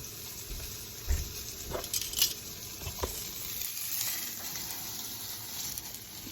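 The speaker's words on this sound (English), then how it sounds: "As you can hear, that is sizzling." Meatballs frying in a pan give a soft, continuous sizzle with a few louder pops and crackles, heard close up and without talk.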